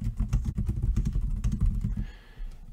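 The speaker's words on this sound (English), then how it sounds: "I can type in whatever phrase I like" Quick, steady keystrokes on a computer keyboard, close and fairly quiet, a run of light clicks that stops abruptly near the end, with no talking.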